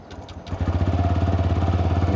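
A 2023 TVS Raider 125 motorcycle with a 125cc engine cranks briefly, then fires up and settles into a steady, even idle with a rapid, regular thrum, close and clear.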